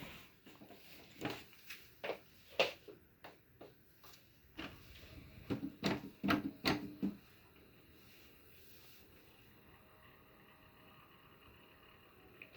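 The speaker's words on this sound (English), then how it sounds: "This is the first time starting up the printer." A Canon PIXMA TS3320 all-in-one printer powering up for the first time gives off a series of close mechanical clicks and clunks for about seven seconds, then settles into a quiet hum.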